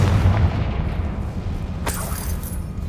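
A Confringo spell explosion in a Harry Potter video game, a deep low boom opening loudly and rumbling away, then a sharp crack near the end.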